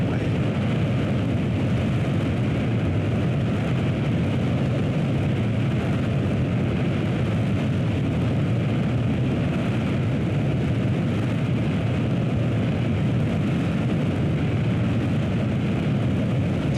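A Concorde rolls for takeoff in Microsoft Flight Simulator, its engines a constant, loud, broadband roar that holds steady throughout without letting up.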